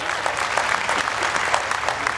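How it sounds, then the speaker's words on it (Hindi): Audience applause at a Rajasthani humorous poetry gathering at the Jalore Mahotsav kavi sammelan, a dense, steady clapping from a large crowd that holds at an even, fairly loud level throughout. "मैं चाहता हूं मुन्ना के लिए जोरदार ताली बजाया।"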